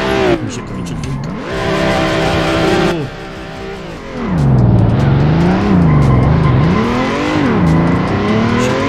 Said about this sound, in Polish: To Vercetti chyba będzie zadowolony z driftowania w Vice City.